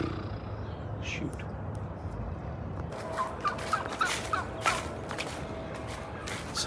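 Turkeys gobble in short repeated bursts around their roosting home base at a farm flock, moderately near over steady background noise.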